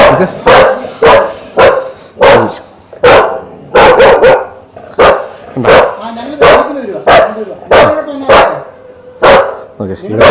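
A dog barks repeatedly and loudly, the barks coming in quick uneven bursts with short gaps between them.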